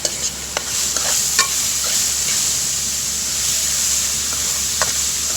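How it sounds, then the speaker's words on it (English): Onion roasting with garam masala spices in a pan over charcoal at a beachfront cook, a steady hiss and sizzle with scattered crackles and pops throughout, close up and without voices. "She is roasting the onion along with other spices, which is garam masala basically"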